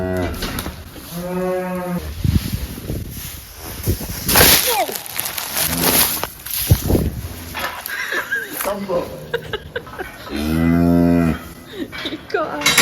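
Cattle at calving, with two drawn-out moos from a nearby cow, people talking throughout and scattered knocks and scuffs of farm work around them.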